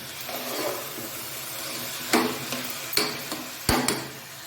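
Black chickpeas and tomatoes fry in a pan under a low sizzle while a spoon stirs them, giving three or four sharp, close clacks against the metal pan.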